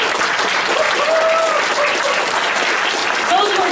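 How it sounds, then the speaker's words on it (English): Dense, continuous applause from an audience at a candidates' forum fills the whole stretch, loud and close with a steady crowd wash and no pauses. "Let's give all the candidates a round of applause."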